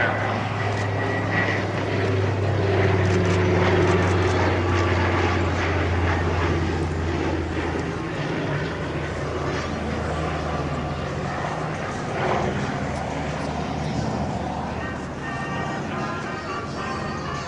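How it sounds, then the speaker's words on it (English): Twin radial piston engines of a PBY Catalina flying boat drone steadily overhead at an airshow, a loud continuous propeller hum with a low tonal throb that eases slightly after the first half, with no talk over it. "Mr. Bob Hill, the controls of this beautiful PBY Catalina"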